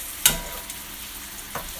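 Thick osso buco shanks sizzling and browning in olive oil inside an Instant Pot, a steady soft fry with a sharp clatter as a piece is turned, then another brief stir.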